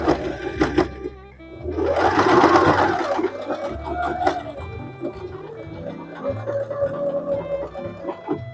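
A sewing machine stitches a hand-stitched binding for a beginners' creative sewing project, finishing with a short backstitch; a steady mechanical whirr runs in bursts, loudest in the middle, with faint talk around it.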